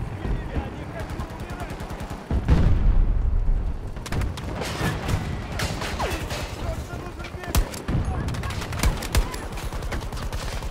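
Battlefield 2042 Breakthrough combat with dense rapid gunfire, sustained automatic bursts and booms in a chaotic mix, including a heavy blast early on, with voices partly under the shooting.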